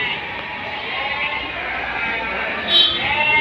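A goat bleats once, short and fairly close, against the constant broad murmur of a busy goat market.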